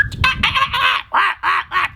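A storyteller's voice imitates honking birds, about six nasal goose-like honks in a quick irregular series, close and clear with no other sound.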